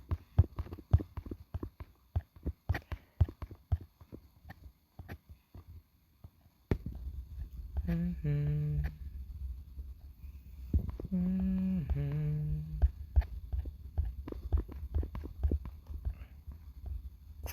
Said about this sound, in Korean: 쿵쿵쿵 소리 아마 제 핸드폰으로 댓글 보는 그 이 손가락 소리예요.